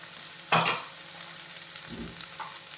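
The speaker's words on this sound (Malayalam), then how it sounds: "ഇത് രണ്ടും കൂടെ നല്ല രീതിയിലുള്ള വഴറ്റിയെടുക്കണം" Bitter gourd and onion being sautéed in a pan, with one sharp scrape and sizzle burst, then a quieter frying background with a soft thump and light clinks later.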